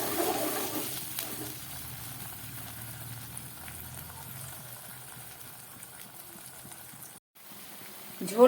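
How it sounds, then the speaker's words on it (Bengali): Pabda fish curry gravy boils in a pan, a soft and steady bubbling hiss that holds at low volume throughout. "ঝোলটা ফুটে উঠেছে।"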